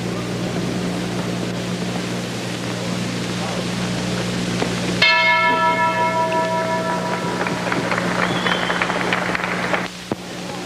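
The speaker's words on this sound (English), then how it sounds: "Bell sounds. Second round is on." A boxing ring bell clangs once to open a round at a 1955 professional bout. The bright metallic strike rings on and decays over a steady murmur of arena crowd noise.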